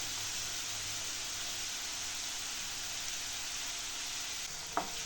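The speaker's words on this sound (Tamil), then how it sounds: "நல்லா வதக்கிடலாம்" Beetroot masala rice sautéing in a pan, a constant loud hiss and sizzle close by, with a single light clink of a utensil near the end and no voices.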